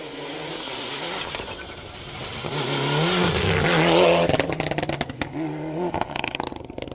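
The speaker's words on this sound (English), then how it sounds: "Car number 11, this man here, Steve Colley, Kirsty Duke in their Evo 9." Mitsubishi Evo 9 rally car, dayglow orange, blasting flat out along a Manx Rally stage, engine revving hard and rising to a loud peak before crackling gear changes and popping as it passes close by.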